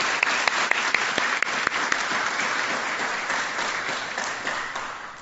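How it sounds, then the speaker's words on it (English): Dense, steady audience applause fills a White Coat Ceremony at Wingate University School of Pharmacy, with loud sustained clapping throughout and a few sharper individual claps standing out near the start. "How about a round of applause for our P1s?"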